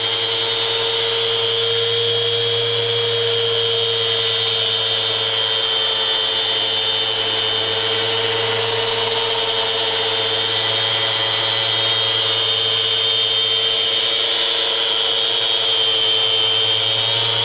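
A Festool Rotex sander with 80 grit paper runs at a constant steady hum and whine, close and unbroken for the whole stretch with no talking.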